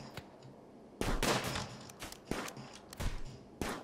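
Gunfire in the video game RimWorld, several sharp shots and short bursts spaced irregularly over a steady background, loud and close.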